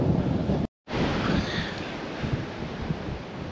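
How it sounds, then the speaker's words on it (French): Strong, gusty wind buffets a microphone outdoors during a solo hiking bivouac, a continuous loud roar that swells and eases, briefly cut by a short dropout near the start. "Par contre il y a du vent"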